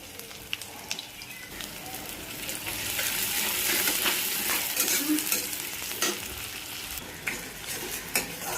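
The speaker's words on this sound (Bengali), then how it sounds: "পেঁয়াজগুলো ভাজতেছে আমার বর" Onions frying in a pan for a home-cooked chicken kosha, with a steady broadband sizzle that swells midway, scattered sharp crackles and occasional stirring scrapes, close and continuous with no talk.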